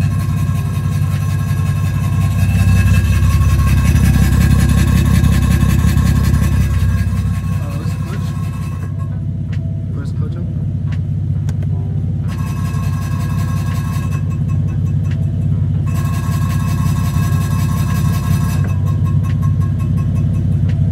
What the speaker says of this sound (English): And I get this loud rattling noise I'll show you guys right now.